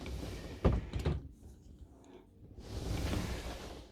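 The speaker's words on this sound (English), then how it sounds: "I'm now closing the door" Sliding toilet door in a Carthago C Tourer i144LE motorhome pulled shut, a pair of knocks and a rolling slide followed by a soft whooshing rumble, close and fairly quiet.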